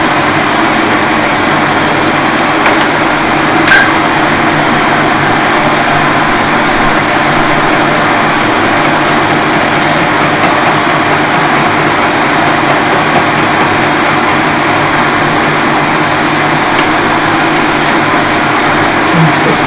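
An old horizontal boring machine cuts a steel drill grinder mount, giving a steady, close mechanical drone with a faint high whine. The tone holds even and unbroken throughout, with one small click partway in.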